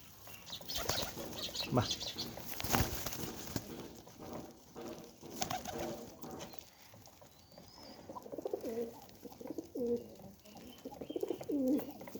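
Pigeons coo in soft repeated throaty phrases and flap their wings in bursts nearby, with scattered rustles and chirps in a quiet indoor space.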